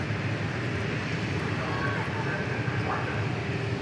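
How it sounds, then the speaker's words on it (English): A Phenom private jet rolls onto the runway at Dallas Love Field, its engine a steady broad rumble and whine at middle distance with wind noise over it. "Phenom taking the runway right now"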